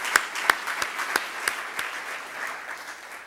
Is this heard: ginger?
no